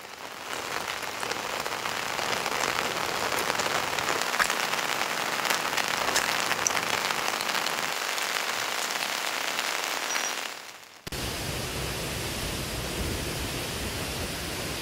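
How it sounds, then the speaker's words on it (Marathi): Heavy monsoon rain pours at Ozharde waterfall in Satara, a dense, steady roaring hiss for about eleven seconds before it cuts abruptly to a slightly thinner wash of rain and falling water. "साताऱ्यामध्ये मुसळधार पाऊस सुरू झालेला आहे"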